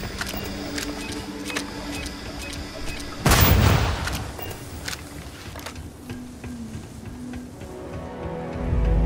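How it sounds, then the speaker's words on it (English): Incendiary landmine exploding in the video game Starfield; one sharp boom with a burst of noise, followed by lower game ambience and faint clicks, no talk. "Those are incendiary landmines, so once they blow up, they burn the ground for a few seconds."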